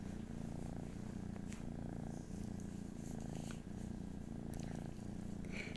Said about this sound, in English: And Belinda, I'm glad you enjoyed the kitten purring.